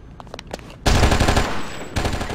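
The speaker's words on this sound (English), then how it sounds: "that was a less successful barrage of SMG bullets" An SMG in the video game Oni fires a loud, dense, rapid burst that starts suddenly after a few quieter clicks and thuds. The burst runs steadily for over a second before a brief dip and renewed fire.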